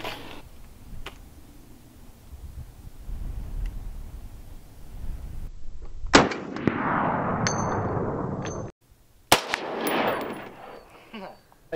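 A Ruger 556 MPR rifle fires at a bounce target 100 yards away, with two sharp reports spaced a few seconds apart, each followed by a ringing, decaying echo in the open air.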